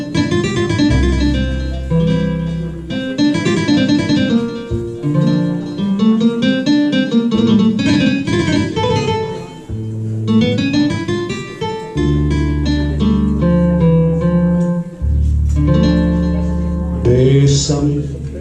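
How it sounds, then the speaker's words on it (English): A Spanish guitar is played live as an intro, with rhythmic strummed chords and plucked melodic runs carrying on continuously and fairly loud, ahead of a vocal song at a Hanukkah event in Boynton Beach. "they have these Spanish guitars"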